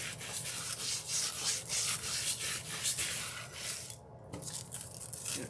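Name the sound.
scrubbing metallic nail foil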